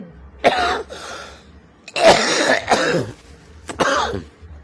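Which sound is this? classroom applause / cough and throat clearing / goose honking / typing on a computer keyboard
cough and throat clearing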